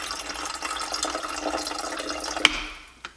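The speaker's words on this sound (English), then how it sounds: "really watch this stream of water pour down into the pot" Water poured in a steady stream into a coffee pot during a mindful coffee-making routine, a continuous close splashing trickle with a brief sharper splash near the end.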